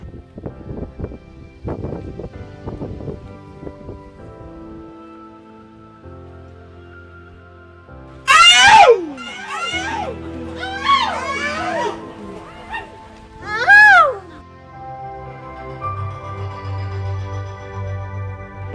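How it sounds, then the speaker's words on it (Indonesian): A loud traditional koa shout from villagers in Oemolo, Kupang, signalling that the main water tower tap has been opened, rings out in three strong sliding vocal bursts over a music background. "Pekikan ini adalah koa."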